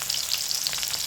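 Dried chillies hit hot oil for tempering with a brief, close burst of bright crackling sizzle that stays steady and even, with no voices.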